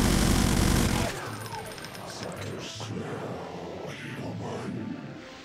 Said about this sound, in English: The minigun, sorry, is the best weapon to kill all the Cuck demons.